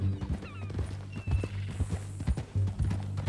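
Horse hooves clip-clop at a steady walking pace in Red Dead Redemption 2, the repeated close thuds sitting over a low hum of ambience with a faint whinny-like tone early on.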